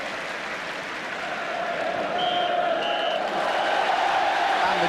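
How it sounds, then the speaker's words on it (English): A football crowd at Stamford Bridge cheers and applauds at half-time of a 1980 Chelsea match, a broad, steady roar of distant massed voices and clapping that swells slightly and holds throughout. "cheer at half-time from the Stamford Bridge crowd reflects a fine 45 minutes by Chelsea"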